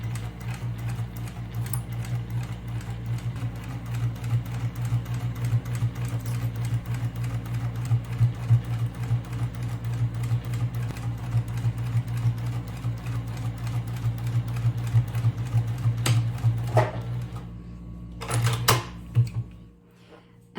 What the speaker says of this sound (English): Okay, now we're here at the sewing machine, and then we are going to start to sew.